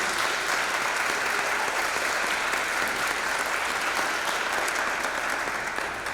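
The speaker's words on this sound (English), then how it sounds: "If you all would join me one more time to applaud this group" Steady, full audience applause for a group at a school district board meeting, continuous clapping holding an even level throughout with no voices over it.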